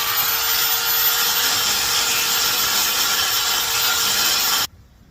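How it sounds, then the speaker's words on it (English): A thin belt sander works the rear body panel under the trunk of a 1991 Honda CRX, giving a steady, loud abrasive whir that runs unbroken for several seconds before cutting off abruptly. "I'm gonna give the thin belt sander a try and see if we can make that happen"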